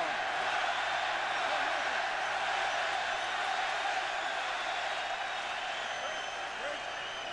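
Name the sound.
boxing crowd chanting Ouellet's name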